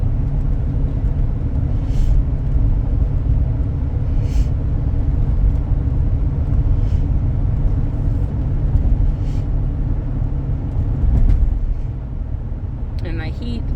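2003 Cadillac Deville driving smoothly, a steady low road and engine rumble heard from inside the cabin, continuous throughout with a faint brief clatter near the end.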